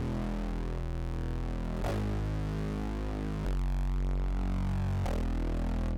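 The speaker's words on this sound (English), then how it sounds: "pasted them into a distorted synth bass" A distorted synth bass plays the root notes of a chord progression as long, buzzing, sustained tones. Each note changes every couple of seconds, and the bass is heard alone without voices.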